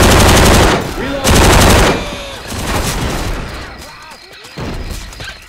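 Rapid automatic gunfire from the video game Left 4 Dead 2, loud bursts of rattling shots in quick succession with dips between volleys and some game voices in the background.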